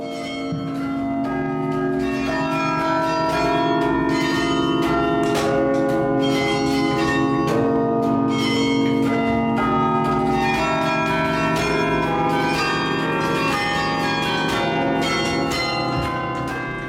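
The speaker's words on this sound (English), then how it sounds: "place a carillon in the tower of the newly constructed library" Large bronze carillon bells in a library tower ring together in a rich, sustained peal, overlapping tones and long resonance filling the whole stretch, loud and continuous with no voices.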